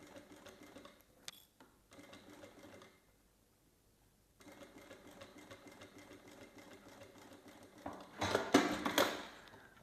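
A sewing machine stitches fabric and faux leather for a coin purse, sewing 1 cm from the edge at stitch length 3.5. The steady motor whir runs close up, pauses for a couple of seconds, then resumes and grows louder near the end.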